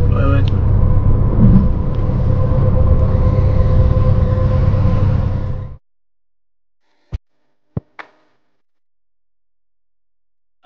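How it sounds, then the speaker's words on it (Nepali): A train runs on rails at night on a route crossing into France, giving a loud, steady rumble for almost six seconds that cuts off abruptly, followed by near silence and a few sharp isolated clicks. "ट्रेन"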